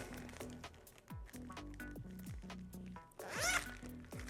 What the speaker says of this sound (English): Now we're going to seal the bag.